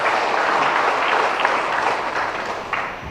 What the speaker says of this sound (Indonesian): Boleh beri aplaus tepuk tangan untuk beliau.